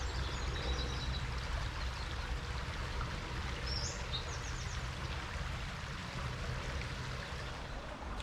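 A creek flows in a steady broadband rush that fills the whole stretch evenly, heard at a rest stop on a half-marathon run route, with faint bird chirps above the water.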